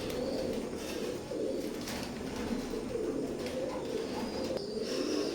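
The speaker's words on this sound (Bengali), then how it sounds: "এখন যে কবুতর জোড়া দেখতে পাচ্ছেন এটাও কেটিএম ব্লাড লাইনের এক জোড়া বেবি।" Baby KTM bloodline teddy pigeons coo in a low, steady murmur, close and continuous, with a faint chirp now and then.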